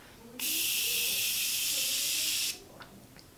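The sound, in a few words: facial setting spray misting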